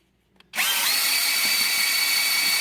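After a quiet moment, an electric drill spinning a flexible radiator hose at low speed whirs on abruptly and spins up to a loud, steady high-pitched whine that continues without letup.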